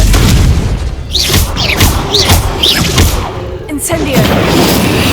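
Repeated booming fire-spell blasts from Confringo in Hogwarts Legacy, loud and close, several bursts in quick succession over a dense rumbling game soundscape.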